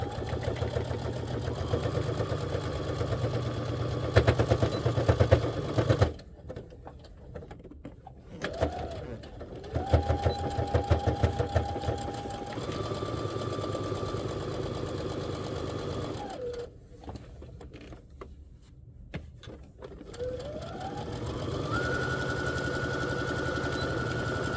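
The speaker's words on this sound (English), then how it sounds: "we are going to be going over the wristlet strap, so feel free to back stitch over top of that" A sewing machine stitches over a wristlet strap on a zipper pouch in steady mechanical bursts, stopping and starting several times with short quiet pauses between runs.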